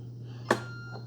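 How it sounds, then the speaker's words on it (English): A single short electronic beep from the touch panel of an Instant Pot 2-in-1 K-Cup coffee maker and espresso machine, crisp and close over a steady low hum, with a faint second chirp just after. "It does beep at you when it starts."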